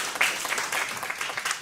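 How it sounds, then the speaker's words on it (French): An audience applauds at a French conference on serious adverse health events, a brief burst of dense clapping from a seated crowd, fairly even and moderately loud throughout. "Vous pouvez l'applaudir."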